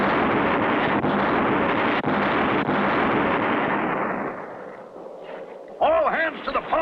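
Cartoon cannon fire on a pirate ship at sea: a sustained, loud, rumbling roar of blasts with a couple of sharp cracks, fading away and followed by brief bubbly, splashy sounds at the end.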